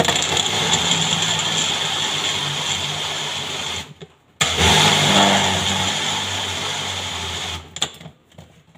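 A blender packed full with ingredients including a little ginger whirs loudly and steadily up close, cuts out briefly, restarts at full strength, then stops again near the end.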